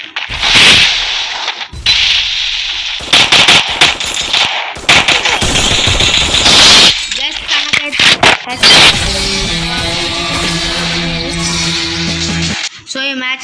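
Rapid gunfire bursts from the Free Fire battle royale game, loud and repeated in short volleys over the first half, then giving way to steady game music and tones.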